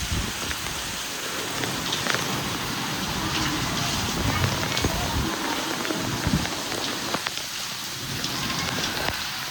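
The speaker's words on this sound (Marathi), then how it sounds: "एवढं भयंकर वादळ वारं हे सुटलंय ना, खूप मस्त भयंकर पाऊस चालू आहे." Heavy rain driven by strong stormy wind pours steadily onto surfaces, a dense close hiss with scattered sharper drop hits throughout.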